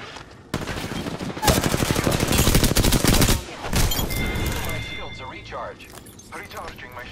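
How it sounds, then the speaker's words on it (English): Rapid automatic gunfire from the Apex Legends battle royale game, loud, dense bursts running for about three seconds, then lighter scattered shots and mechanical clatter as a voice talks over the fight. "I am taking fire, friends."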